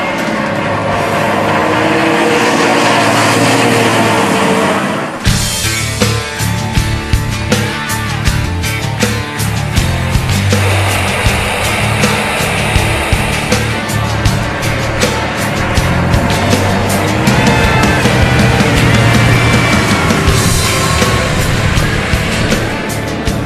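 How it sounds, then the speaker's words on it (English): A heavy truck slides and loses control on a tyre test track, with loud engine drone, tyre scrub and rumbling road noise, a sudden burst after a few seconds, then sustained noisy driving with sharp clicks and bursts. "Just in front of us, you have the first truck, which is losing control. It keeps sliding."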